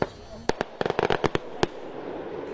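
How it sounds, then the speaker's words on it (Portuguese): Fireworks going off at a riverside religious festival for Nossa Senhora dos Navegantes in Porto Lucena on the Uruguay River, a rapid series of about a dozen sharp bangs and pops, some close together, over a faint background murmur. "Eram 8h20 quando os fogos de artifício sinalizaram a chegada da protetora das águas ao município de Porto Lucena"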